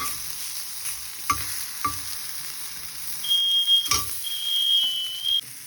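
Spicy masala-coated tilapia fries in a pan over low heat, a faint steady sizzle with a few soft clicks of stirring and a brief high electronic beep near the end.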